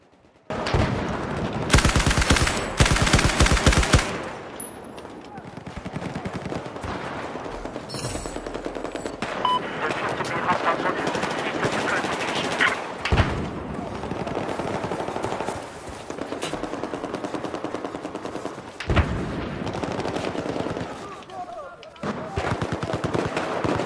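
Type-88 light machine gun firing in Battlefield 4, long loud sustained bursts of rapid automatic fire broken by short pauses, with a voice talking over parts of it.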